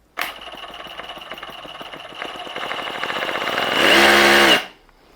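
Bosch GBH 18V cordless rotary hammer drill (GBH 187-LI One Chuck) in hammer mode starts abruptly, ramps up with rapid pounding, peaks loudly near the end, then cuts off.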